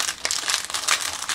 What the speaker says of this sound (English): It comes in a plastic bag like this.